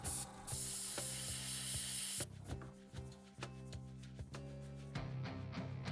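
An airbrush loaded with blue paint sprays in a steady, fairly loud hiss that cuts off and resumes in short bursts, with small clicks and rubbing handling noises between passes.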